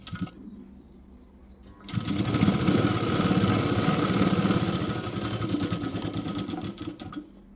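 A sewing machine stitches the hook belt of a blouse, starting after a quieter lead-in and then running steadily and fairly loud with a fast, even mechanical whir until it stops near the end.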